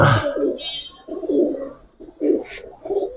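Giribaz pigeons coo in soft, repeated low phrases, close and clear, about four bursts with short pauses and no talking.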